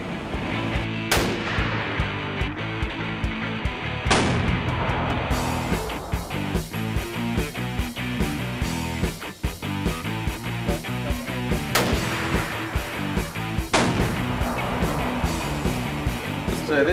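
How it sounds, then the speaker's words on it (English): Repeated .50 caliber rifle shots ring out at a shooting range, loud, sharp reports spaced a few seconds apart over a dense, constant background roar of other gunfire, with faint voices mixed in. "This is known as shooting a 50 cal."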